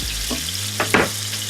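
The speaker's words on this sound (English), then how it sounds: "what we're doing here is called searing, where you cook it a little bit on one side, a little bit on the other side" Steak sears in olive oil in a hot pan, a short steady sizzle with a couple of brief utensil knocks or shifts near the end, close and fairly loud, with no talk.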